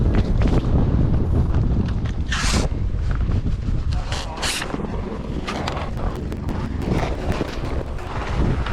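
Strong wind buffets the microphone during a ski tour near the Mammut hut in the high Alps, with loud rumbling gusts and crunching steps underneath as people talk.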